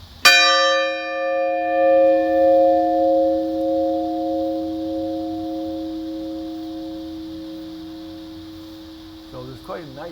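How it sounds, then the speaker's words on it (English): A single strike of a large church bell rings out, its clear tone and overtones sustaining and slowly fading over many seconds with a long resonance. "Just listen to the sound of this bell when we strike it"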